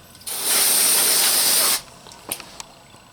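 An aerosol spray hisses onto a circuit board inside a B&K 1460 oscilloscope in one steady, close blast lasting about a second and a half. A few faint clicks follow.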